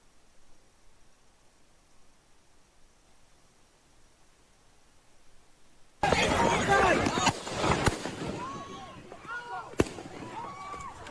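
Gunshots from a rifle in played video footage: a sudden loud burst of sharp cracks and popping, with a few distinct strong reports over a noisy crowd-like din after a quiet stretch.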